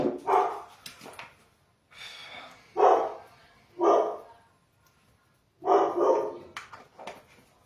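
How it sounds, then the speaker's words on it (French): A dog barks in four or five loud, separate bursts spaced a second or two apart, close by and alone without talk. "Qu'est-ce qu'il a, mon chien, encore?"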